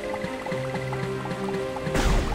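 Water being collected in Starbound: bubbling, dripping liquid gurgles under a steady tonal game soundtrack, ending in a louder splashing rush.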